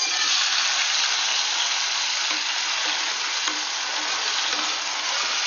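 Chopped tomatoes frying in a pan for tomato chutney, giving a steady, bright, even sizzle at close range that continues throughout without talk.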